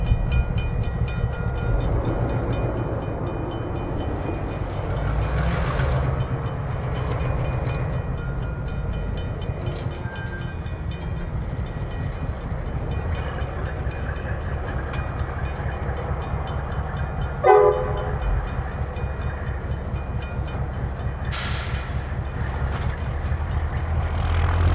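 A 70-year-old short-line locomotive, number 1203, rumbles by at low speed with its cars, engine idling deep and steady, with a sharp clank or squeal partway through and a brief hiss near the end.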